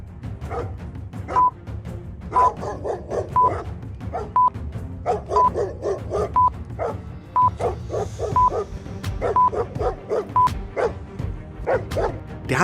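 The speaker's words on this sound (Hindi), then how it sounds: "ब्रेवो के पीछे बहुत सारी जंगली कुत्ते लगे हुए थे" A pack of cartoon wild dogs barks in a rapid, steady stream of sharp yaps during a chase, with loud, closely spaced barks continuing throughout.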